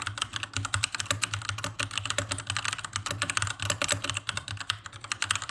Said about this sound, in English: So you see me typing a comment here.